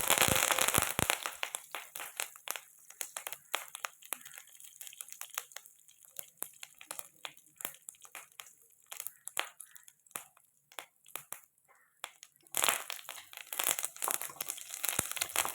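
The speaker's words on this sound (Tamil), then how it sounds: "பட்டை லவங்கம் சோம்பு சேர்த்துக்கலாம் இதோட கருவேப்பிலையும் சேர்த்துக்கலாம் பொரியட்டும்" Cinnamon, cloves, fennel seeds and curry leaves spluttering in hot oil, a dense run of sharp crackles and pops, loudest at the start and again near the end, close and vigorous.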